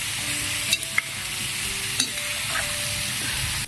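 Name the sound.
pork frying in a pan for adobo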